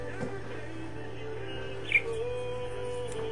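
A pet bird gives a single short, bright chirp partway through, set against a steady low indoor hum with no talking.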